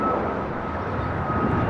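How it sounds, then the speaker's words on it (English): A United Airlines Boeing 737 MAX 8 taking off from the runway, a steady broadband engine roar, loud and continuous over a brief stretch with no talking. "This is United Airlines 2318 taking off to San Francisco on a MAX 8"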